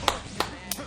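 Three sharp hand claps, evenly spaced and close, each a crisp loud burst over a faint background.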